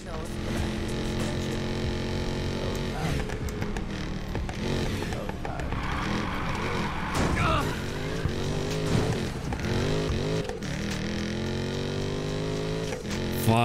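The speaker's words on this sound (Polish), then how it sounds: "Ja dzisiaj chyba nic nie będę mówił, żeby jak najlepiej było słychać samochód." A car engine in the racing game Need For Speed Payback revs and shifts through gears, with rising and falling tones and nitro bursts, loud and steady, under game music and effects.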